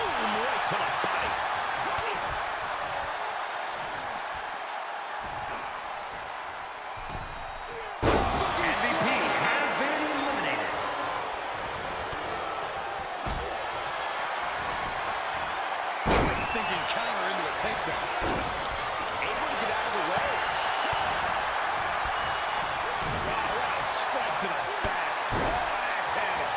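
Heavy body slams thud at a few points during a WWE 2K23 wrestling match, sharp isolated impacts with a low crowd murmur, mostly under continuous commentary.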